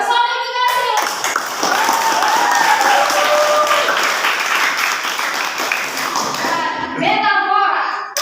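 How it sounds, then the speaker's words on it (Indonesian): Classroom applause from students in a vocational high school lesson, steady loud clapping filling the whole stretch, with brief voices at the start and end. "Beri tepuk tangan untuk kelompok yang mendapatkan bintang 5"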